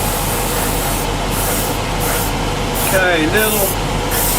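Airbrush spraying paint onto an Airfix 1/48 scale Sea Vixen model kit, a steady close hiss of air running throughout under someone talking.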